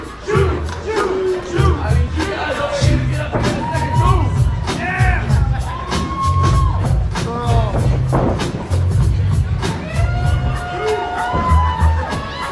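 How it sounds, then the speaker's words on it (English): Crowd at a sports event loudly cheering and chanting for athlete Tyler Shoup, a continuous roar of many voices with rising whoops and shouts throughout, close and dense, whether booing or chanting the name. "you hear them, I can't tell if they're booing or chanting Shoup"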